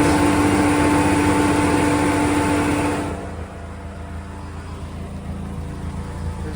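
A sports car engine idles with a steady, dense rumble that drops to a lower, quieter hum about halfway through, heard up close through the engine cover without talking.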